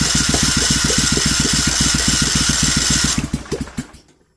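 A Vanguard 16HP engine with rust in its cylinders cranks in a fast, even chugging rhythm for about three seconds without catching, then the starter slows and stops.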